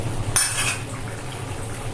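A spoon adds ground paste of garlic, nigella seed and onion to a pot of tatkini fish curry. One sharp, close metal clink is followed by a soft, wet sloshing of sauce.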